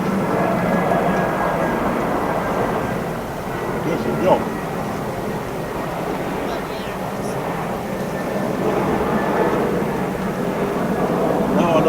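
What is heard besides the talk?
airplane flying overhead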